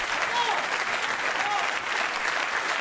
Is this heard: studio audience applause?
yes